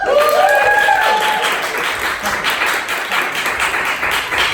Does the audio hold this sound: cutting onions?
no